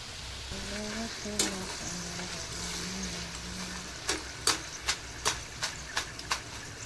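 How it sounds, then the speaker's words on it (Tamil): Thin potato slices fry once in hot oil until crisp, giving a faint, steady sizzle broken by a run of sharp pops and crackles near the end. "அதையுமே பொரிச்சிடலான்னு சொல்லிட்டு பொரிச்சிட்ருக்கேன்"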